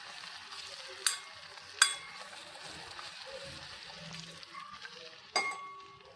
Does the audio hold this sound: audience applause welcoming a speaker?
no